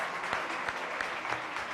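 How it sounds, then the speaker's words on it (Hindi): Studio audience applause on a Pakistani television talk show, a steady wash of clapping at moderate level with a few sharper hand claps standing out, no talk over it. "वो आए आपकी भरपूर तालियों में वसीम बादामी।"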